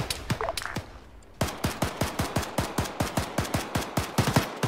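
Rapid automatic gunfire in the military video game Arma 3: one short burst, a brief pause, then a long, evenly spaced string of loud, close shots.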